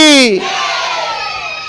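A large crowd loudly shouts a devotional chant to Channabasaveshwara during a religious discourse. A single rising voice leads into a brief, powerful massed cry that holds steady and close.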